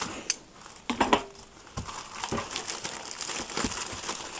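Close crinkling and rustling of a magazine's plastic wrap, with a few sharp scissor snips and crackles early on, then steady softer handling noises.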